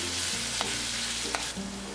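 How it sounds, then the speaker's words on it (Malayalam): Cinnamon, cardamom, cloves, bay leaf and ginger garlic paste fry in hot oil for a vegetable kurma. A steady, close sizzle hisses throughout, broken by a couple of faint stirring clicks. "എടുത്തു വെച്ചിരിക്കുന്ന ജിഞ്ചർ ഗാർലിക് പേസ്റ്റ് ഇതിലേക്ക് ചേർത്ത് ഫ്രൈ ചെയ്ത് കൊടുക്കാം."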